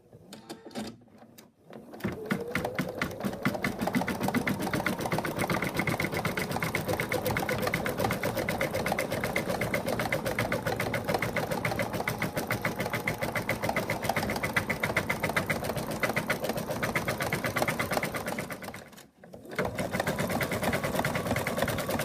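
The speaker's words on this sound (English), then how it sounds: "So now we're going to start sewing around." Embroidery sewing machine running steadily as it stitches around a cat design, a rapid even needle rhythm held for about seventeen seconds, briefly pausing, then resuming close and clear with no talking.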